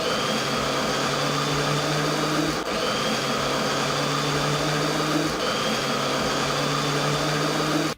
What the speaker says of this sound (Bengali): এবার একটু পানি দিয়ে ব্লেন্ড করে নিচ্ছি।